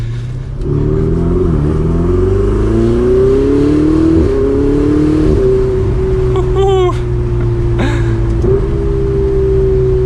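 A Ferrari 488 Spider with its top down, its engine droning steadily and rising in pitch through several revving surges, loud and close throughout with no talk over it.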